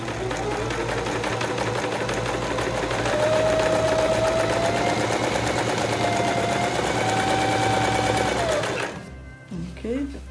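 An electric Singer sewing machine, run with a foot pedal, stitches a straight line. Rapid, even mechanical whirring and needle clatter carry on close up for about nine seconds, then stop, and a voice follows briefly.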